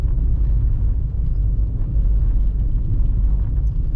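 Steady low rumble of a 2007 Toyota Highlander Hybrid rolling over a rough dirt road, a continuous close drone with faint rattles and no talk.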